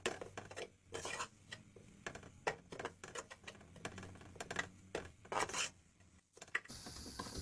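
Grated coconut is lightly roasted in a pan, with a spoon repeatedly scraping and clinking against the metal in short, uneven bursts between quiet pauses; fairly soft and close.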